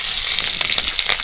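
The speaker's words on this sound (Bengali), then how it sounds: "অল্প একটু গোটা জিরে আর একটু কালো জিরে ফোড়নের জন্য দিয়ে দিলাম।" Whole cumin and nigella seeds hit hot oil for a Bengali tempering, producing a short, close, bright crackling sizzle with no voices.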